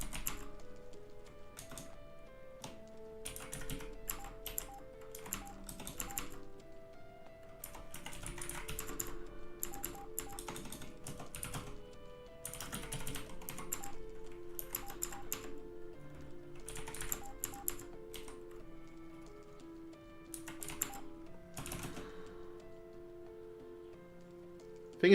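Typing on a computer keyboard at a desk, with steady bursts of key clicks and short pauses, close up and fairly quiet, no talking.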